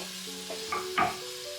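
Peeled tomatoes go into a pressure cooker pot of türlü stew with meat, peppers and onion, giving two short sizzling bursts over a low steady hum.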